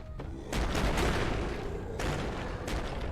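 Monster in the horror game Amnesia: The Dark Descent bursting through a wooden door, two heavy booming crashes about a second and a half apart, loud and close, each followed by a rumbling decay.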